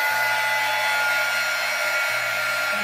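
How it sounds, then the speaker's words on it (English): A constant blowing hiss from a heat gun used to clear bubbles from a poured coating on a balsa wood tray, close and even, with a low motor hum underneath. "Don't bring the heat gun too close to the Bradley Glow."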